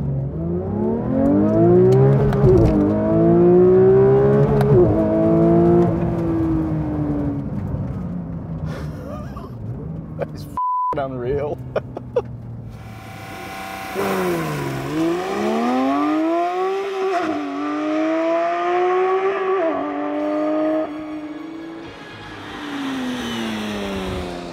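A Porsche 911 GT3 engine roars as it accelerates hard from standstill, pitch climbing through the gears with brief drops at each shift, loud and close, no talking.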